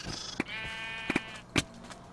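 Sheep in a video game let out several short, harmonic bleats, some overlapping with sharp clicks and thumps, over a quiet background.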